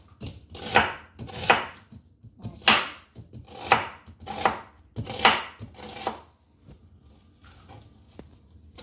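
A knife chops an onion sharply on a board, about eight distinct cuts in an uneven rhythm, close and clear, then a few softer taps as it trails off.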